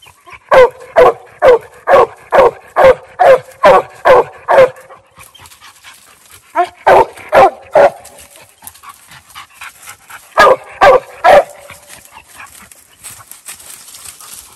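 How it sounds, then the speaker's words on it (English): A young hound pup barks at a treed raccoon in a rhythmic run of loud, close bawling barks, then shorter bursts of two or three after pauses, with faint panting and whimpering between. "Let's see if I can get the pup to bark a little bit."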